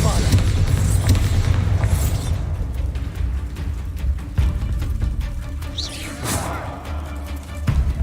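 Bombarda explosive spells go off in Hogwarts Legacy during a fight with a spider: a string of booming bursts and mechanical clatter, loud at first and then sparser, with a voice coming in at times.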